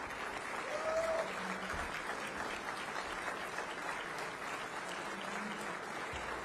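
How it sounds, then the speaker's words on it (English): A crowd of guests at a political dinner party in Medina County, Ohio applauds steadily, a dense even patter of clapping that holds at a fairly consistent level throughout. "And also our friend Dave Yost, another round of applause for being here tonight"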